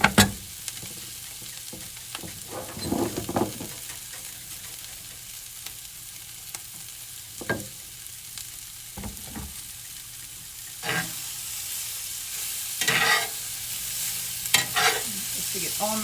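Steak and egg skillet frying in butter and olive oil, a soft steady sizzle with intermittent scraping stirs of a utensil against the pan, close and without talk.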